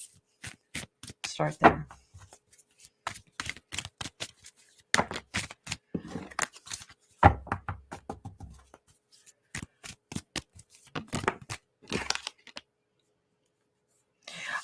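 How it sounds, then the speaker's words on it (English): Tarot cards are shuffled by hand in quick riffling bursts, repeated several times at close range, with a person speaking between and over the shuffles. "I'm going to use the card, but I'm going to keep shuffling"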